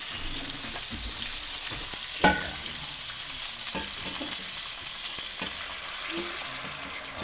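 Beef caldereta is stirred in a sizzling pan: steady close frying hiss with a sharp utensil clack early on and a few softer scrapes as it is mixed.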